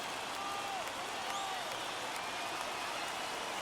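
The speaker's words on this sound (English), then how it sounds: "Crowd now has come alive here in Houston." A Houston stadium crowd cheers during an ALDS playoff baseball game between the Twins and Astros. The roar is broad and steady and runs through the whole moment, with a few whistles cutting through.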